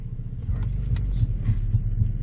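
A 2011 Ford Explorer's low engine rumble with a faint, regular ticking from the power transfer unit pulsing through it, steady and close.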